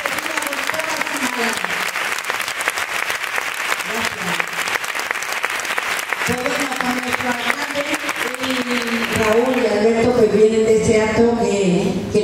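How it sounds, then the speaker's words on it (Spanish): Audience at the Peña La Paz fair poster presentation breaks into sustained applause, a dense crackle of many hands clapping that swells louder toward the end, with a voice speaking over it at first. "yo voy a pedir ese aplauso que no le dije antes"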